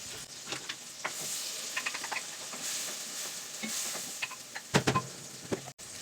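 Onion fries in a pan with a soft, steady sizzle, close by, dotted with scattered clicks and a few louder knocks near the end.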